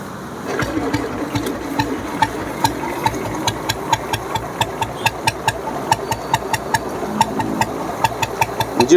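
A 1986 Royal Enfield Bullet motorcycle idles close by, its single-cylinder engine thumping out a steady, even beat that continues throughout with no one talking.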